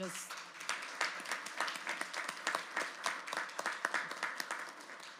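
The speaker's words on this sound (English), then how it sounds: "So let's just give them a round of applause for" Audience at a scholars signing ceremony claps steadily, a moderate round of applause with clearly separate claps, rising and falling in waves over several seconds in a fairly small room.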